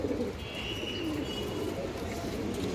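A pigeon coos in soft, low rolling calls close by, repeated steadily with faint background noise and no voices over it.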